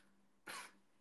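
A single short, sharp cough bursts out close by in an otherwise quiet room, lasting about a quarter second before fading back to near silence.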